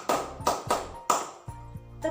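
Sharp hand claps in a counting clap game in a school lesson, a series of crisp, close claps in uneven groups with short pauses between them.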